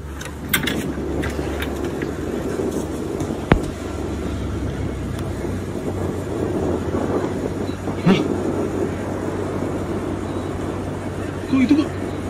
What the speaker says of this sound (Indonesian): Kok kayak ada suara pesawat, guys?